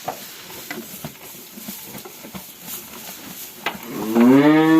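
Cows eating hay in a barn during morning milking low close by, one long drawn-out moo rising at the end over soft rustling and chewing sounds in an enclosed space.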